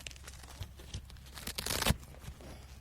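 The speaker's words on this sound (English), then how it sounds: "Opening my zipper." A zipper is pulled open in a few quick, scratchy bursts that grow louder and end in one sharp rasp, close to the microphone with no talking.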